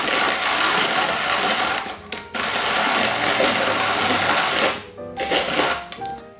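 Coffee beans ground by hand in a Hario Mini Mill manual burr grinder, a steady close crunching grind that breaks off briefly twice, loud and continuous with no talking.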